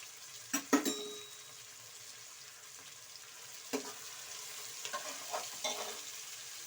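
Vegetables and tomatoes for restaurant-style pasta fry quietly in a pan, a soft steady sizzle broken by a few scraping stirs and clinks of the spatula, faint and close with no talk.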